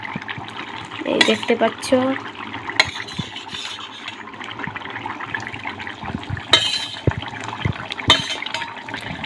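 Tilapia pieces poured into a Bengali fish curry gravy, a wet splashing tumble followed by stirring and clinks of a pan, with a brief spoken voice early on.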